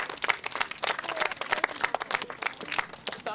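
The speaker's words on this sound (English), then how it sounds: "Let's give a round of applause" Theatre audience applauding the little tree planters at a children's play, a quick burst of scattered clapping that stays fairly even, with a few brighter claps standing out and no talking over it.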